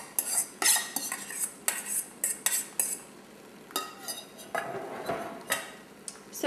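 A utensil stirs a potato pie mixture with eggs and cheese in a pan, giving repeated quick scraping clinks and taps against the metal at an uneven brisk rhythm, close and fairly loud with no voices.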